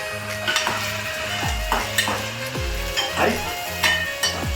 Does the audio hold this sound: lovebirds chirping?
no